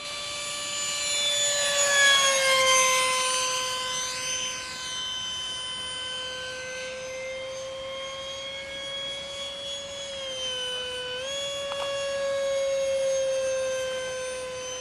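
RC F-117 stealth jet model with a 70mm electric ducted fan making low passes: a steady high-pitched turbine-like whine with Doppler sweeps as it passes near, fading and returning, no talk.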